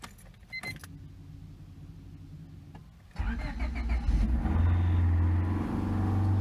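A repaired Honda car engine cranks and catches after a quiet stretch, settling into a loud, steady idle up close with some light rattling beforehand.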